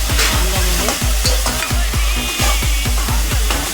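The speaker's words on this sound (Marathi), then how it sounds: "कांद्यामध्ये कांदा आणि टॉमॅटो आपण हे एकत्र मिश्रण करूया एकजीव होईपर्यंत त्याला चांगलं मिक्स करून घेऊ" Onion and tomato are stirred together in a sizzling frying pan, a steady fry with rhythmic spoon scrapes repeating about every quarter second, close and loud, with no talking.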